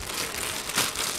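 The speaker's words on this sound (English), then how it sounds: "So all I need to do is cover this up with a plastic bag" Plastic bag crinkling as it is pulled over a power bank outdoors by a pond, a steady close rustle with a brief louder crackle near the end, no talking.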